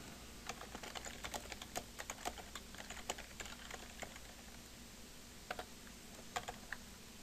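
Keys on a computer keyboard clatter in uneven bursts of sharp clicks, close and fairly quiet, with short pauses between runs of strokes and no voices.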